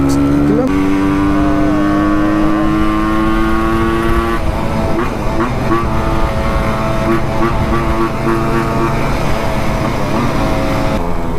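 A Yamaha RX135 two-stroke motorcycle engine runs steadily at close range, with a continuous droning buzz and slight shifts in pitch as it idles and revs through the whole stretch, no speech over it.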